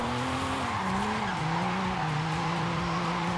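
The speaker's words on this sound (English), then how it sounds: "A little bit of parking lot drifting, maybe." Tires squeal in a slow first-gear parking lot drift in Forza Horizon 5, driven in a 2JZ-swapped Nismo replica, with a steady engine drone under the wavering screech.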